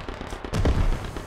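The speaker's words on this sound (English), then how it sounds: "Grenade! Grenade!" A grenade bursts in the war shooter game Beyond The Wire, a sudden loud close blast with a short rumbling tail after a brief stretch of quieter background noise.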